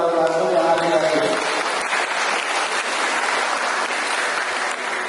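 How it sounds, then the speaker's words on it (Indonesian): An audience applauds donors at an Islamic boarding school gathering in Muaro Jambi. The clapping is dense and steady and lasts throughout, with a voice over it at the start. "Tepuk tangan dulu buat para donatur yang ada di sini."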